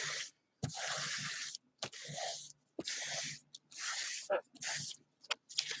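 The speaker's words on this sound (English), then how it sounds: "Spraying the air with Lysol." Bursts of Lysol aerosol spray hissing into the air, several short blasts of varying length separated by brief pauses, close and fairly loud.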